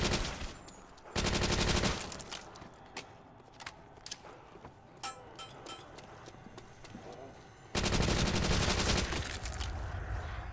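A Thompson submachine gun in Call of Duty: World at War zombies fires in two long loud full-auto bursts, with scattered single shots and other game noise in between.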